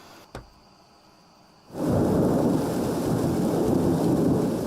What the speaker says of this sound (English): The dawn of a new day, and it's raining again.